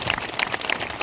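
An audience applauding after a village politician's speech at an Ambedkar Jayanti gathering, with brief dense outdoor clapping.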